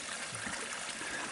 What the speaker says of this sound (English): There's a spring just up the hill, and that pipe is tapped into it.